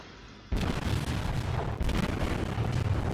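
Naval guns on a warship in the video game World of Warships fire in a heavy salvo, starting with a sudden loud blast after a quiet moment and rolling on as dense, rumbling booms with a second burst partway through.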